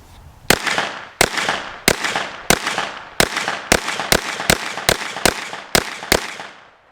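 Rapid shots from a KelTec PMR 30 pistol firing .22 Magnum rounds ring out outdoors, about a dozen sharp cracks in a quick uneven string, each followed by a short echo tail, loud and close.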